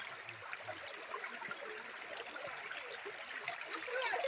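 Sona Dai river water flowing at Khandi Ghat, a steady soft stream with gentle trickling and gurgles, fairly faint and continuous, with no voices over it.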